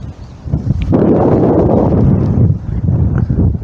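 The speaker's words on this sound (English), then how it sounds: "got really strong gusts of wind" Loud, blustery wind of strong southwesterly gusts, 45 to 50 km/h, roars across the microphone in sustained surges beside a river, rising sharply after a quieter start and buffeting steadily for several seconds.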